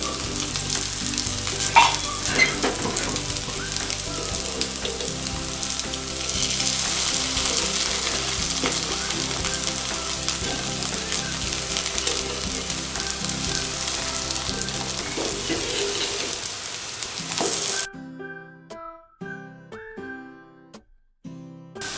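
Maggi noodle omelette sizzling and frying steadily in a pan, loud and close, for most of the time, then stopping abruptly and leaving a few sharp knocks in near silence.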